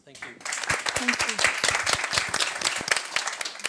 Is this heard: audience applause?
yes